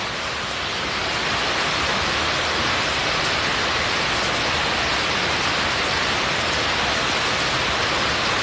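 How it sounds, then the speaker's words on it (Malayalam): Heavy rain pours down in a dense, even roar that holds loud and unbroken throughout, with no voices. "നല്ലൊരു അടിപൊളി മഴ പെയ്തു."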